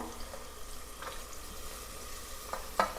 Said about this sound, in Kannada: ಕೆಂಪಗಾದ ಮೇಲೆ ಮೆಣಸಿನ್ಕಾಯಿ ಹಾಕೋತಿದ್ದೀನಿ ಆಮೇಲೆ ಗೋಡಂಬಿ ಹಾಕ್ತಿದ್ದೀನಿ